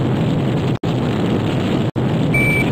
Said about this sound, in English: TLI engine ignition.